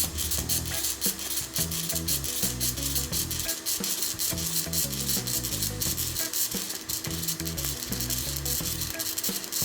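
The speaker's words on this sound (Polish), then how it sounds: "Słychać też po dźwięku szlifowania, że akryl jest twardszym materiałem od PETG" A drill-driven sanding tool grinds the edge of a hard acrylic tube while a liquid-cooled AMD PC is being built. The abrasive hiss runs continuously and harshly with a pulsing scrape, over a steady low tonal backing.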